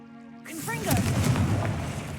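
Confringo fire-blast spell cast in the Hogwarts Legacy video game: a booming burst that erupts after a brief quiet start, then a sustained rumbling, crackling roar with swooshing effects layered over it.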